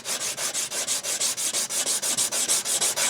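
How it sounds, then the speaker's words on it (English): Sandpaper rubbed over a hard flat surface while sanding down part of a Kramer Aero Star guitar, loud close rasping strokes in a quick even back-and-forth rhythm of about six strokes per second. "take a piece of sandpaper and sand some of it down a little bit"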